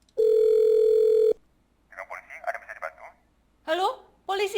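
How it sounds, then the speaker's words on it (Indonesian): A steady telephone dial tone hums for about a second as a player calls the police in the horror video game Harmony of Fear, followed by faint muffled chatter and brief speech. "Karina, ibu akan telepon polisi dan kita bisa pulang"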